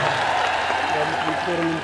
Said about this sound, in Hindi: बजाओ एक बार जोरदार तालियां